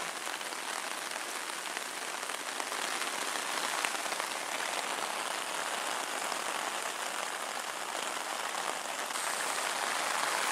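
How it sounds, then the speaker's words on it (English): Rain pattering steadily on a tent roof on the Superior Hiking Trail in the early morning, a dense, even hiss of close drops that never lets up, with no voices. "As you see, it's raining out."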